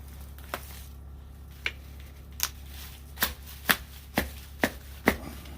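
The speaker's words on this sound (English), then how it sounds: "Let me cut the hide again." A knife cuts through the hide on a deer buck's head in a series of about eight sharp, crisp snaps and slices, spaced unevenly over a faint steady background hum.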